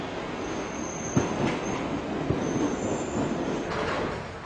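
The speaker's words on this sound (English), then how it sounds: "Here comes the train" A Hammersmith and City line Tube train pulls into the station with a loud rolling rumble, a few sharp clacks from the wheels and a high thin squeal of brakes above it, with no talk.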